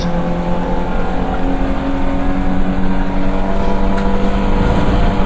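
Classic Hatch race cars accelerate at Donington Park, loud close engine roar with rising tones as the cars power out of a bend, continuous and busy throughout.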